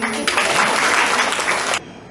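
Crowd applause at a municipal Keralolsavam festival, a short, loud burst of many people clapping that cuts off abruptly.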